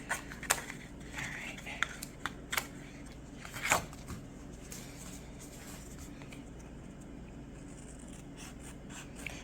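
A few scattered snips and rustles from cutting around a big piece of material for magnetic bookmarks, close and fairly quiet, with soft handling noise between cuts.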